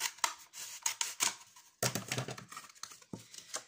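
An empty paper towel roll is cut in two at close range, producing a quick series of crisp snips and cardboard crunches with a brief pause midway.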